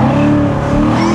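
A Chevrolet Corvette C7 Stingray engine revs loudly and close by, a steady throttle-held roar with a rich harmonic drone and no voices over it.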